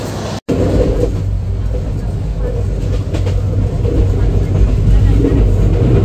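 A train stands at platform 1 of Shayestaganj railway station in Bangladesh, producing a loud, constant low rumble and engine drone beneath busy platform ambience and nearby talk.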